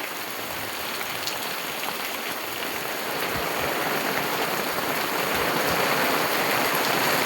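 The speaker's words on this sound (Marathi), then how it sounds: "हा बघा अचानक असा पाऊस आलेला आहे" A sudden first May downpour falls behind a house in the Konkan after a hot afternoon, making a steady, dense hiss of rain that grows slightly louder over several seconds, with no voices.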